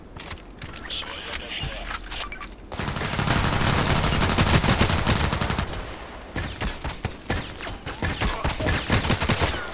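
Gunfire in the shooter Contract Wars with an RFB rifle: after a brief lull, dense rapid shots start and crackle steadily, then break into sharper separate bursts, loud and close, with a voice talking at times.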